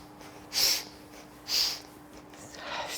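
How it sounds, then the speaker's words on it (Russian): Two sharp nasal sniffs, evenly spaced about a second apart, taken during a breathing exercise with turning movements, close and clear against a quiet room with a faint steady hum. "На каждый поворот выполняем шмыганье носом"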